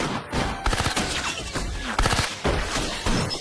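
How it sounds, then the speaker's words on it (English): Rapid gunfire from a bank-robbery action film rings out in loud, sharp volleys with glassy shattering, the shots timed in rhythm with a music beat underneath. "the gunshots are synchronized to the sound of the beat"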